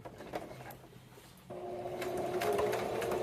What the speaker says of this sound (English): So I'm just going to put it in the sewing machine.